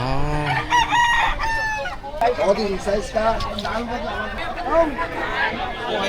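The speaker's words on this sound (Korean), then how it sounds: "닭싸움 이거 촬영하지 말라 그랬는데." Roosters crowing and clucking at a crowded cockfight in a Philippine sugarcane town, loud and close, with layered cock-a-doodle-doo calls over a chattering crowd of voices.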